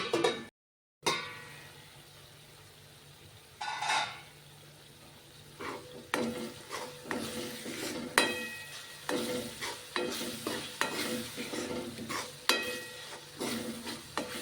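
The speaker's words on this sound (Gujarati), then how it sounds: "આપણે 2 મિનિટ મસાલાને ચડવા દેશું, તેલ છૂટું પડે ત્યાં સુધી." Spice masala cooks in oil for a stuffed eggplant and potato curry, sizzling continuously while a spoon scrapes and stirs the pan in repeated strokes, with a short silent break near the start.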